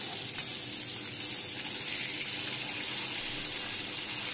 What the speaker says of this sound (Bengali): বন্ধুরা নুন হলুদ মাখিয়ে মাছ ভাজতে শুরু করে দিয়েছি